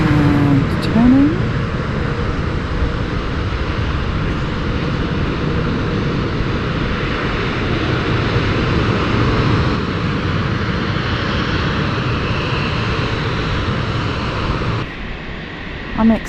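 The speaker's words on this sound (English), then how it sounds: "That was a very cool landing. And considering how close we are, that wasn't terribly noisy either." An airplane lands on the runway at London City Airport, heard close by as a steady, broad engine roar and rumble lasting throughout, with a person talking over it and the roar easing near the end.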